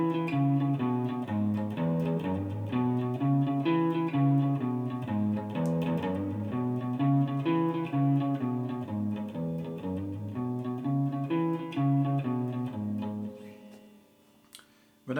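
Beginner blues boogie rhythm on guitar, a repeating shuffle pattern of low two-note riffs moving along the strings, played close and steady with no talk, then fading at the end.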